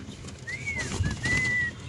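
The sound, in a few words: Lahori pigeons at a pigeon farm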